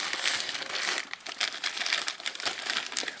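Plastic packaging around a large red spiral-shaped silicone bundt cake and bread mold is cut open with scissors: steady close crinkling and rustling of plastic, with irregular louder crackles, and no voices.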